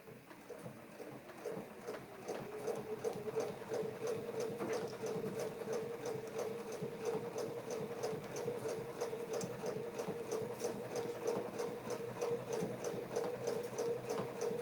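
A sewing machine runs steadily, stitching around a maple leaf quilt template, its rapid needle rhythm forming a continuous mechanical hum that starts after a brief quieter moment and holds even and close throughout.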